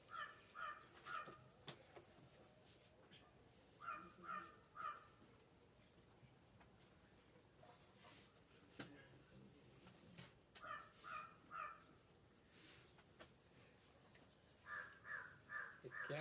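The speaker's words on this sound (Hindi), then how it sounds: "नहीं कौवा काव काव कर रहा है" A crow caws in short repeated bursts of two or three harsh calls, fairly faint and outdoors in the morning, with quiet gaps between the groups.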